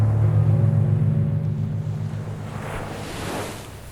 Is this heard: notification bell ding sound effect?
no